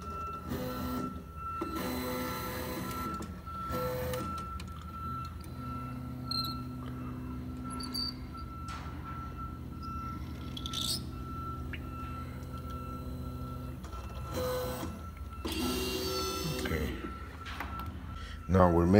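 A Briot Emotion patternless lens edger traces an eyeglass frame, giving a steady mechanical whir with intermittent electronic beeps and small clicks while someone talks over it.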